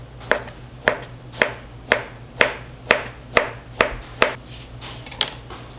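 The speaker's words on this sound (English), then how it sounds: "That's how you julienne meat." A knife slices meat on a cutting board into thin julienne strips, about a dozen sharp evenly spaced chopping knocks at a steady rhythm, close and clear with no talking.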